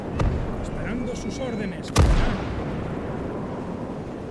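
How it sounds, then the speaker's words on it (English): Artillery fire in the WWII video game Call to Arms: Gates of Hell, with a single loud boom about midway through, set over steady battlefield rumble and distant crackle. "Damn that artillery."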